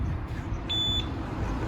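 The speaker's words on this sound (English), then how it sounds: "Check this alarm that they just put on this bike" Alarmed disc lock on a Triumph motorcycle emitting a short, high, steady electronic tone lasting about a third of a second over loud outdoor rumble and broadband background noise.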